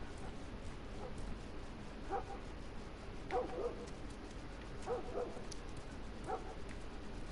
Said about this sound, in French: Putain, on entend les chiens là.